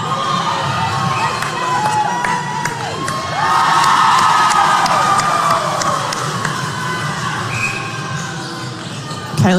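A netball match crowd cheers and shouts steadily, with a loud swell of roaring midway, children's shouts and whoops mixed in, and faint talk underneath.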